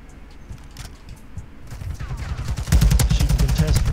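Automatic gunfire in Call of Duty MW2 starts as scattered shots, then breaks into loud, dense bursts of rapid rounds over the last second or so of the firefight.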